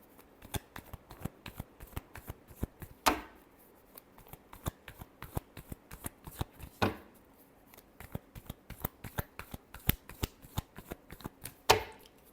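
Tarot cards are shuffled by hand in a long run of crisp, irregular flicks and snaps, with a few louder slaps now and then, close and with no one speaking.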